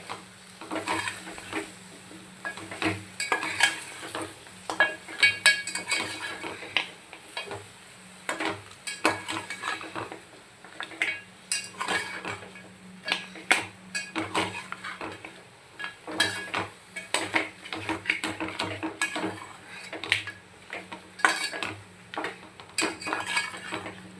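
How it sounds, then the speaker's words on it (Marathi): Mutton trotters are turned in a spicy masala in a pan, with constant busy scraping and clinking of a spoon against metal over a low sizzle, close up and sustained. "पाय टाकू छानपैकी या मसाल्यामध्ये परतू घ्यायचे"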